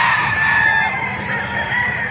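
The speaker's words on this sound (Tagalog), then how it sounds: "Kaya napakaraming manok oh." A rooster crows loudly and close at a chicken market, a long drawn-out call, with more crowing and clucking from other birds behind it.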